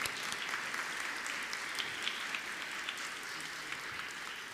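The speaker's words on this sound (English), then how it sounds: "If I could get one more round of applause for our moderator and our panelists." A conference audience applauds the moderator and panelists in a steady round of many hands clapping, fairly quiet and even throughout with no speech over it.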